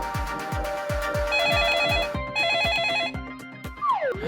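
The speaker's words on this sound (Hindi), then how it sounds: "अरे बाप, फिर से फोन।" A telephone rings in a Hindi animated cartoon, repeated trilling bursts over rhythmic background thumps and music, with no talk.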